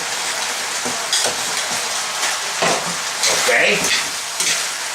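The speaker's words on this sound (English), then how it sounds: "we're going to fry that up" Pork fried rice with teriyaki sauce sizzles and crackles steadily in a hot pan while being stirred, with scraping strokes of the utensil breaking through the frying; a single brief spoken word rises over it.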